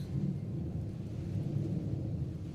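Low rolling thunder from a thunderstorm, a steady, continuous rumble heard from a distance with no sharp cracks, running unbroken throughout.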